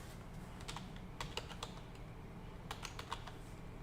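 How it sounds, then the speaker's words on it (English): Quiet keyboard typing up close as the hostname command is entered on a computer, two short bursts of light keystroke clicks with a pause between. "we're going to type the command hostname"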